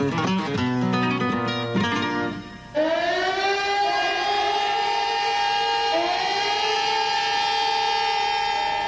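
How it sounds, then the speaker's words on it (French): Loud wailing warning sirens over Barcelona rise and hold steady, several overlapping tones sounding together continuously with a brief dip before surging again. "Lorsque les sirènes ont sonné,"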